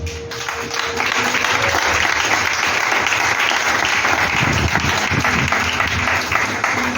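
A church congregation bursts into sustained applause, a dense, loud wash of clapping that swells after a brief start and carries on steadily throughout, with a faint voice and some low hum underneath.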